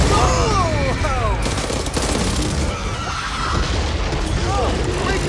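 Gunfire in the zombie shooter Back 4 Blood: dense, booming bursts of shots and blasts run nonstop through the whole stretch, loud and close, with shouted voices mixed in among the chaos.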